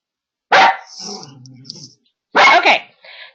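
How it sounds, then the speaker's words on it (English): A dog barks indoors, two loud close bursts with a whining, growly tail between them, alone without talk. "let me quiet my dog down"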